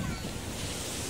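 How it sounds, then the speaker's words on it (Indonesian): Big surf rolling onto the beach at Pantai Alam Indah in Tegal, a steady broad wash of breaking waves with wind rumble, no distinct individual crashes. "Nah, terus di sini tuh pantainya, ombaknya tuh gede banget."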